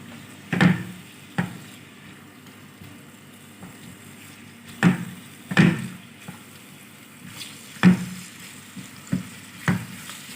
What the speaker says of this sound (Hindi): इसको फ्राई कर लेंगे